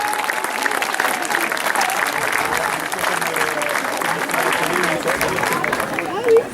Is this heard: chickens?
no